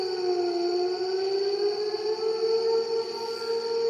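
A fire station siren wails steadily and loudly, a continuous rising tone that holds for the whole stretch with no talking over it.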